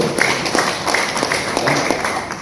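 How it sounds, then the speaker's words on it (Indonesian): Applause from attendees at a community discussion forum in Tebet, a few seconds of steady, moderately loud clapping from a roomful of people. "Saya minta tepuk tangan buat kita semua dulu"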